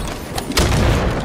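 A grenade goes off in Halo 5 multiplayer, a single heavy boom that swells and holds over a steady rumble of game noise, close and loud with no talk over it.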